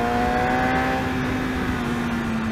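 A BMW S1000RR sport motorcycle pulls through city traffic in Hyderabad, its engine holding a close, steady, loud drone that sags slightly in pitch over a short stretch.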